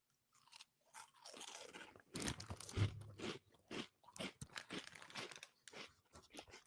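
Loud crunching and chewing of cheese-flavored potato chips, a burst of crisp bites and steady munching close to the ear, with brief pauses between mouthfuls.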